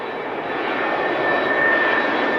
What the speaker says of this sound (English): They set out on northwest flight paths in their stick and rudder aircraft, some 30 planes in all.